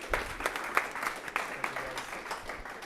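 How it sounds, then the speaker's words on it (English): A crowd at a university student club meeting applauds, with steady clapping from many hands rising and falling in a continuous patter, fairly faint, as if heard from across a room. "round of applause for that"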